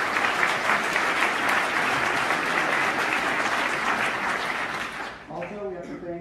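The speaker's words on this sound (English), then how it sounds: "so another round of applause for them." Audience at a university campus event gives a sustained round of applause, dense and steady for about five seconds before thinning out as a voice starts speaking.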